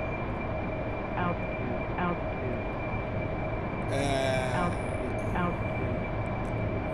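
An AV-8B Harrier jet in the flight simulator DCS takes off with a continuous heavy engine roar and a steady high whine. A brief brighter hiss swells midway, and faint voices surface now and then beneath the noise.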